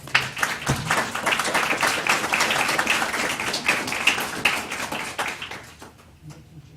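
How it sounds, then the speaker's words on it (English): An audience at a county schools board meeting applauds a group of high school FBLA club students with steady clapping that swells and then fades out near the end. "let's give these young folks a round of applause"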